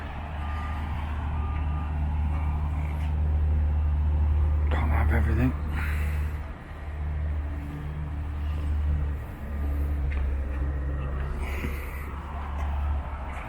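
Distant motorway traffic with passing lorries drones steadily near a stopover at Astigarraga, Spain, a low continuous rumble with a few beeps, under quiet talk.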